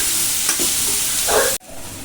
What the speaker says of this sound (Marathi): आपण हा कांदा बघा मोठा मोठा फक्त चिरलेला आहे याप्रमाणे तो टाकूया. तर आपण सर्व मिक्स करून घेऊया हलवून.